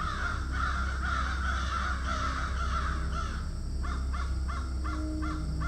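A crow caws repeatedly in a close, harsh series against a steady background hum, in an animated horror story.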